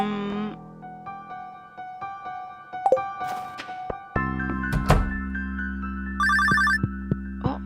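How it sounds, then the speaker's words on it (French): Telephone ringing in Stardew Valley, a bright electronic trill that sounds near the end amid chiming game tones, soft thunks and clicks, loud and close. "téléphone"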